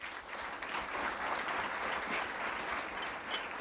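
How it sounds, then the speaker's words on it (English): Audience applause for Sudha Murthy and Vinod Giri at an Infosys talk session, a sustained even clapping from a crowd in a hall, moderately loud and continuous throughout. "Can we have another round of applause for Mrs."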